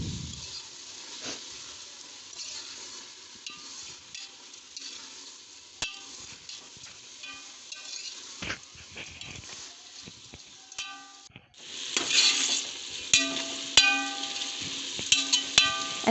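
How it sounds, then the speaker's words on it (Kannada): Washed sprouted field beans sizzle steadily in a hot pan while a spoon scrapes and stirs at intervals, and the frying grows louder and brighter partway through. "ಮೊಳಕೆ ಕಾಳನ್ನ ತೊಳೆದು ಹಾಕ್ಕೊತೀನಿ. ಹಾಕ್ಕೊಂಡು ಚೆನ್ನಾಗಿ ಹುರ್ಕೊತೀನಿ."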